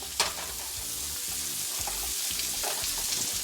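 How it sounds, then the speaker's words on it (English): Onions fry in butter in a pan, a close, steady sizzle with a few soft stirring knocks and scrapes throughout. "we're going to saute them down a little bit"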